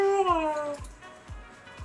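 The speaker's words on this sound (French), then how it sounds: "On a le chat là, le chat." Cat meowing, one long, drawn-out, slightly wailing meow up close, followed by a few soft low thumps.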